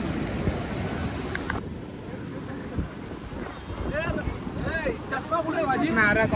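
Sea waves wash in and surge under gusty wind buffeting the microphone at Gokarna, with a couple of people talking faintly and a short shout near the end.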